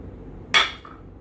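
A piece of a three-piece cookware set with a base plate is handled, producing a single sharp metallic clink followed by a brief fading ring, with quiet background in between.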